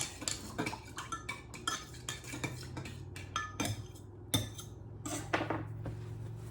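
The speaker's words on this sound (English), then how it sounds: "I'm just gonna stir that, or just kind of swirl it around a little bit" A utensil scrapes and taps steadily against a pan while a mixture for rhubarb cake is stirred and swirled, with irregular close metallic clinks over a faint low hum and no voices.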